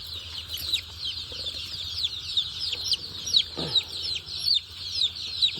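Many small chicks cheep steadily in high-pitched chirps, with occasional soft clucks from free-range hens on a farm, all fairly close and without any talking.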